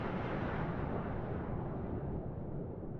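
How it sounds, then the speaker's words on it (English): Deep, sustained jet-engine roar of a fighter-like aircraft in a flight simulator, loud and steady throughout with broadband rumble and no speech. "Actually, it sounds like a fighter jet."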